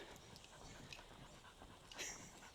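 Heavy, rapid dog panting close by, steady breathy huffs with faint outdoor background and a brief sharp sound at the end.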